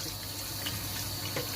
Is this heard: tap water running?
yes